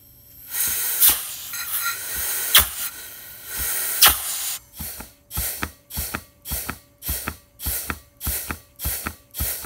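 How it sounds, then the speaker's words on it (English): Compressed air from an air chuck blasts into the reverse hole of a TH200-4R transmission drum, a few long hissing bursts followed by a rapid, evenly spaced series of short sharp pops as the piston moves. "So let's see how that works with our uh, air chuck."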